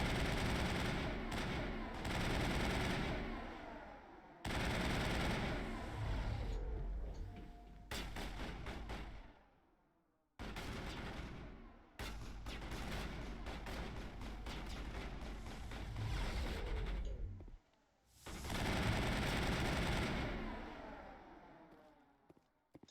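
Sustained bursts of assault rifle fire in the Mass Effect video game, long loud rattling volleys broken by short pauses, close and dominating throughout.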